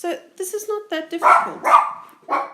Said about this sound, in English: Oops, sorry, that's my dog barking.